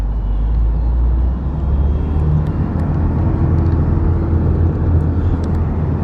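A 1987 Porsche 944S on the move, with a steady low engine rumble and road roar running loud and continuous throughout, no voices over it.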